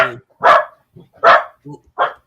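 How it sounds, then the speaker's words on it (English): A dog barks three times in quick, loud bursts, each followed by a short softer yelp or whine, all close by with no talk over it. "So how long do you get that dog for, Jess?"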